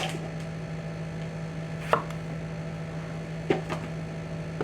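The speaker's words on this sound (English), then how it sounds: "So I'm going to cut these stems off." Jalapeno pepper stems being cut off with a knife, a few sharp isolated chops at spaced intervals over a steady hum, close and fairly quiet.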